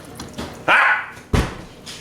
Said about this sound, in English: That was my dog trying to get to the trash can.